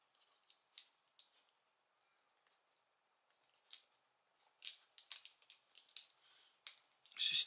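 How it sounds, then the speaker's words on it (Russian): Adhesive tape peels off a laptop screen during a panel replacement: scattered short crackling rips, quiet at first, then louder, more frequent tearing bursts close by. "Поэтому просто отлепляем скотч."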